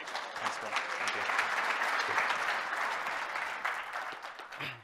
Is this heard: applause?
yes